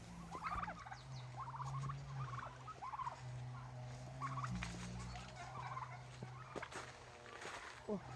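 Soft turkey gobbling and clucking calls come in short bursts over a low background hum, faint and somewhat distant, as a domestic turkey walks to a nest in the bushes.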